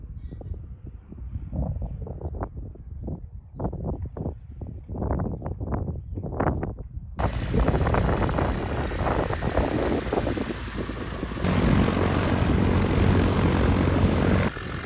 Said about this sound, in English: There's another plane that I think is just about to come into land.